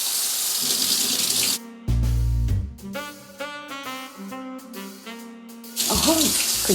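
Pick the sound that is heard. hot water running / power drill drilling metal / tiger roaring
hot water running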